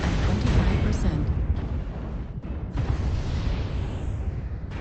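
Artillery airstrike explosions in the video game MechWarrior Online: a continuous rumbling barrage of booms and blasts. It is loud and dense, with a few sharper hits. Game noise runs underneath the whole time.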